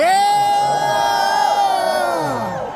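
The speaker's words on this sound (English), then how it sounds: "He gets a big cheer." A large audience at Star Wars Celebration Japan 2025 cheers and whoops for the droid Chopper. The roar is loud and sustained with rising yells, tapering off at the end.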